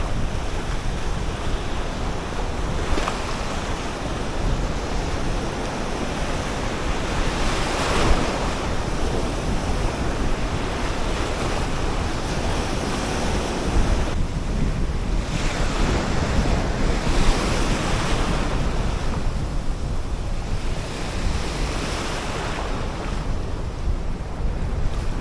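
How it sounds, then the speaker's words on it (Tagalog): Big ocean waves crash steadily onto the shore during monsoon season, a continuous loud roar of surf with gusting wind buffeting the microphone and no voices. "Katakot tong mga alon eh."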